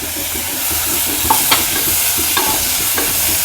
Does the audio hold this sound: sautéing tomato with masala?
yes